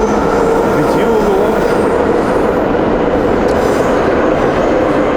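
A 1977 Leningrad-built metro train car runs underground with a loud, continuous rumble and wheel roar, faint squeals riding on top throughout.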